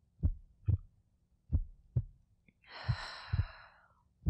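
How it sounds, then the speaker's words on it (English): Close, muffled heartbeat thumps in a slow, steady rhythm, paired double beats repeating through a quiet room, with a soft breathy sigh rising in the middle. "Can you hear my heart?"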